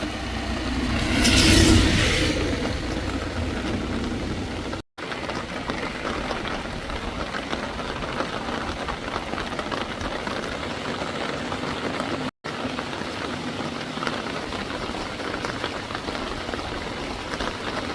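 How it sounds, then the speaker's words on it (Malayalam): Heavy rain pouring in a forest reserve in Karnataka, a dense continuous hiss of drops drumming on surfaces, with a louder burst near the start and no voices. "പക്ഷെ മഴയാണ് വലിയ വില്ലനായത്"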